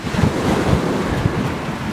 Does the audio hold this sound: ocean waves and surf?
yes